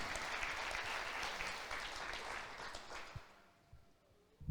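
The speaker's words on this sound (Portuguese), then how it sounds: "Aplauda o Senhor." Church congregation clapping together, dense steady applause that holds for a few seconds and then thins out and fades, with a few scattered claps at the end.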